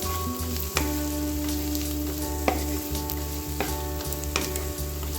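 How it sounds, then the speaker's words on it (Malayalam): Onions sautéing in oil in a pan for a coconut-free tomato curry, a steady close sizzle with repeated spoon scrapes and clinks as they are stirred, no voices. "ഒന്നും കൂടി നന്നായിട്ടൊന്ന് ഇളക്കി കൊടുക്കാം"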